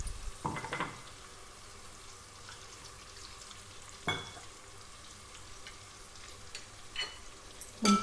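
Ground masala sizzles in a pan for a Telugu country-chicken curry, a low continuous fry with a few sharper stirring scrapes and clanks of the spoon against the pan, heard up close with no talk.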